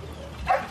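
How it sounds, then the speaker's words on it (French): A search and rescue dog gives a single short bark at earthquake rubble, a clear close yelp over a low background rumble. "le chien aboie."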